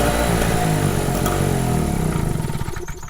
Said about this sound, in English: I'm going to go ahead and put the choke on, and I'm going to go ahead and try to start it back up